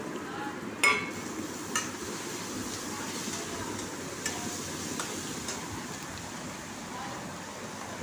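Teasel gourd filling with crab meat sizzles steadily in a frying pan as it is stirred, a continuous broadband crackle with a few sharp utensil clinks against the pan.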